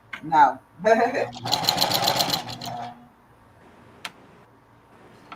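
Brief close burst of a sewing machine top stitching a reversible bucket hat, its rapid even needle rhythm running about a second and a half under and just after a person talking, then near quiet with a single click.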